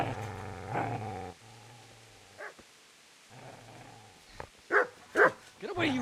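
A dog growls low and steadily in the medieval video game Kingdom Come: Deliverance, followed by a few sharp barks, heard close against faint game ambience with no talk.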